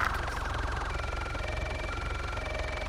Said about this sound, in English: I have yet to turn off these sirens.